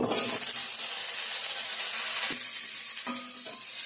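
Vegetables being stirred into a hot pan with fried dried fish and cumin seeds, a steady loud sizzle and hiss throughout with a few scraping stir clicks.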